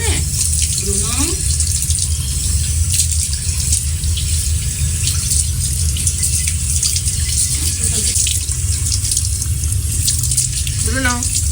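Cold water runs steadily from a tap while dogs are bathed at home, a loud continuous splashing gush that fills the whole stretch, with a few short voices talking over it.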